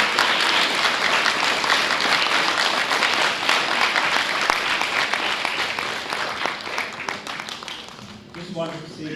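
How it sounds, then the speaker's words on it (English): An audience at a summer camp finale claps in a loud, dense round of applause that holds steady, then thins and tapers off toward the end. "we should give a big round of applause to Sudhita"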